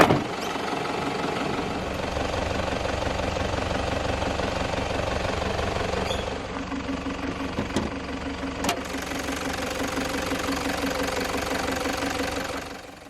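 A 2015 Toyota Land Cruiser Prado GX-L with its 1KD-FTV 3.0-litre D4D turbodiesel four-cylinder idles nearby, a steady clattering diesel knock with a few sharp clicks partway through.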